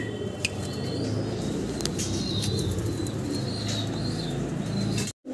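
Many pigeons at a pigeon breeding farm coo in a steady, low, overlapping murmur, with occasional sharper chirps and brief wing sounds, no speech.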